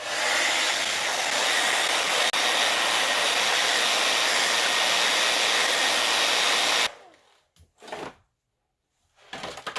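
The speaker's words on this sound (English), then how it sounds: "A blow dryer typically does the trick." A blow dryer blowing hot air roars steadily at close range onto an 18-inch Funko Pop vinyl figure, a dense airy hiss for most of the time, then cuts off abruptly, followed by a few brief clicks and handling noises.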